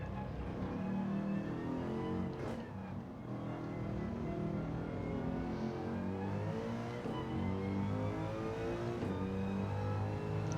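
A Mercedes-AMG GT3 race car roars steadily through a Gran Turismo 7 race at Lago Maggiore, its engine note rising and falling as it shifts, continuous and close with no talking.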